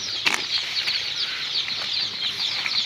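Fayoumi chickens on a poultry farm in Sylhet give a sharp burst of wing flapping and then soft, scattered clucking and rustling nearby, with no one speaking.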